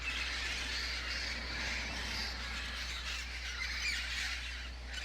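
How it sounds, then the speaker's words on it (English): Lilac-crowned Amazon parrots squawk in a flock at a feeding site among persimmon, pepper tree and cherry foods, with steady overlapping harsh calls continuing throughout over a constant low hum. "a hungry lilac-crowned Amazon parrot finds a ripe persimmon fruit"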